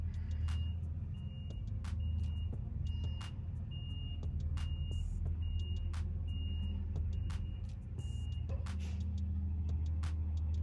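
A local truck idles and rolls in nearby, its low engine rumble steady throughout while a faint reversing beeper chirps in a regular rhythm in the background.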